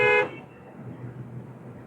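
One short, loud car horn toot, followed by the low hum of a vehicle interior.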